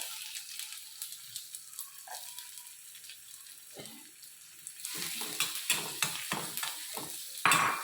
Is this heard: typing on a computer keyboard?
no